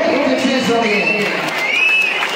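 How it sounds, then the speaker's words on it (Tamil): Applause at a kabaddi tournament medal ceremony, a crowd clapping steadily for a couple of seconds while a voice speaks over it. "எல்லாமே ஒரு கைத்தட்டலாம்."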